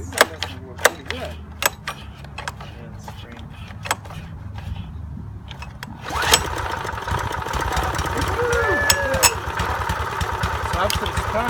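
A gas lawn mower engine catches after a series of quiet clunks and starter pulls, then runs at a steady, rough mid-pitched idle close by, with a voice speaking briefly over it.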